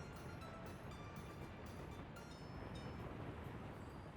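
Train rolling along rails in the Soviet-republic building game Workers & Resources, a steady, even rumble with faint repeating clicks, continuous throughout and without speech.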